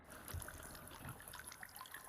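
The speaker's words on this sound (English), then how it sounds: "I know it's like water ambient," Ambient water inside a cave in the survival video game The Forest, a steady trickling, splashing wash with small scattered drips and soft low thumps, continuous and fairly quiet.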